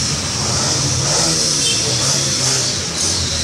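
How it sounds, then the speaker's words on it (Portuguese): Steady roar of road traffic, many cars and motorcycles, with engines revving and vehicles rushing past nearby, a continuous loud wash of motor noise. "Desculpa aí pelo barulho, que tem muitas motos e carros aqui."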